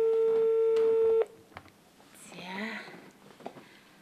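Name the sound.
phone call disconnecting, busy signal tone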